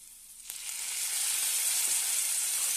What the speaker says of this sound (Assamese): অলপ টাইম লৰাই থাকিম।